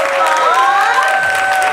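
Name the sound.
audience applause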